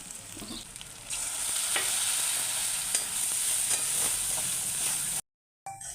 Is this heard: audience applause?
no